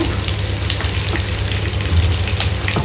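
Ginger garlic paste frying in a pan of curry leaves and oil for Telangana-style tomato dal, a dense continuous sizzle with a low hum underneath, even and close with no voices.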